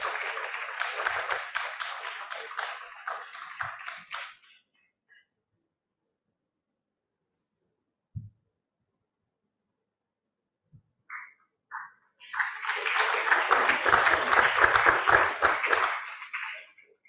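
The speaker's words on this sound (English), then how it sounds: "Please welcome them with a big round of applause" Audience applause at an academic conference award ceremony: a burst of clapping fades out, a few seconds of near silence with isolated taps, then a second swell of loud, steady clapping.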